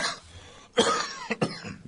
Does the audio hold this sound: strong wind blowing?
no